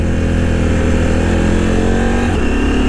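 A 2023 KTM 890 Adventure motorcycle engine revs loudly and climbs in pitch as it accelerates, then drops briefly at a gear shift near the end.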